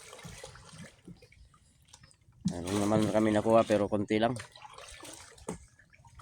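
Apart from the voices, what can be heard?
river water flowing while catching shrimp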